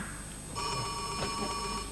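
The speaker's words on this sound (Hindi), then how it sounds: "सर फोन अटेंड कीजिए। फोन टेलीफोन आ गया।" A telephone rings in an office, its electronic bell tone starting about halfway through and holding steady and fairly loud, with no one speaking.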